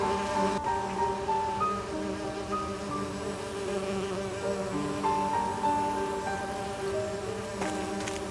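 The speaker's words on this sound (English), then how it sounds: "I need to subdue the bees first." Bees buzz in a steady, dense drone around an artificial hive in the video game Agatha Christie: And Then There Were None, with overlapping wingbeat tones held close and continuous and no talking.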